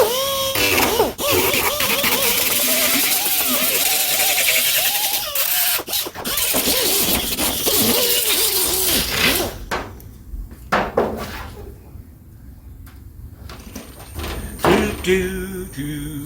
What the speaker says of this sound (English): Stupid air compressor.